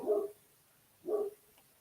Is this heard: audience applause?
no